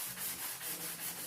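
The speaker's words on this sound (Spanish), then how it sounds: "Ahora entramos a lijar lo que calamos." Hand sanding of cut-out metal pieces in a Mapuche jewelry-making class: rhythmic back-and-forth rasping strokes in one direction, close and steady, about five passes, with no talking.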